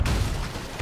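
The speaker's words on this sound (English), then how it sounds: "Get ready on that cannon." A ship's cannon fires during a naval battle in the video game Sea of Thieves, a loud, dense boom with a rumbling tail filling the whole short moment.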